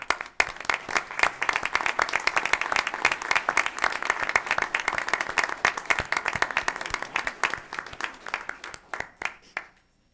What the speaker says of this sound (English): so I could give you a round of applause